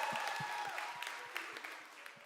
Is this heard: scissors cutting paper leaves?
no